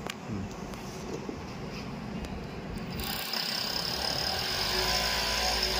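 An ORBITO OS6800D-4ET overlock sewing machine with auto trimmer and auto lifter runs with a steady mechanical whir. It grows slightly louder and brighter about halfway through and keeps going without a break.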